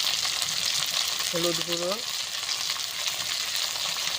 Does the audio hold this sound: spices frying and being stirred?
yes